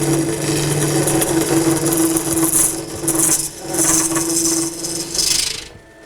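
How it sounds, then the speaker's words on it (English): Loud, close scraping and rasping of a bowl gouge hollowing out an exceptionally hard wooden bowl on a lathe, in continuous cutting strokes over the steady hum of the spinning lathe, ending abruptly. "The tool I'm using at the moment is a bowl gouge."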